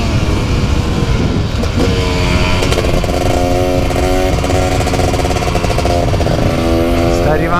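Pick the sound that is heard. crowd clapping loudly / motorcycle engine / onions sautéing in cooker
motorcycle engine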